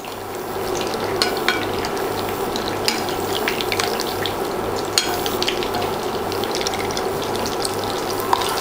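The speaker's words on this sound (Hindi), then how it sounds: "इसे हमें डीप फ्राई में करना है अच्छे से ऑयल डालना है मीडियम फ्लेम पे फ्राई करना है" Bread slices deep-frying in oil over a medium flame for shahi tukra, a loud continuous bubbling sizzle with scattered sharp crackles and pops, close up and without voices.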